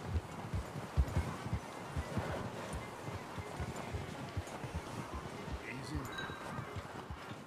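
Horse hooves clip-clop steadily in Red Dead Redemption 2, a busy run of close, muffled footfalls over wind and a low ambient bed.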